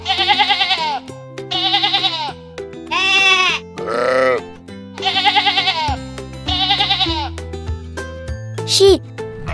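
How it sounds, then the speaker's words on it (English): Several sheep bleats, wavering and quivering, repeat in close succession over a light background melody, loud and near. "Sheep."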